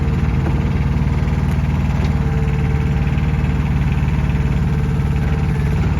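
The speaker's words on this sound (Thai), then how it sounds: "เครื่องยนต์นิ่มๆนะคะตอนนี้" A Komatsu PC03 mini excavator's small diesel engine idles steadily nearby, a smooth low rumble with a regular chugging pulse that stays constant throughout.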